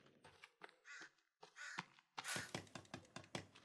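Crows cawing in The Forest, a survival video game: a string of harsh, separate caws, quiet and a little distant, the later ones louder and faster with short gaps between them.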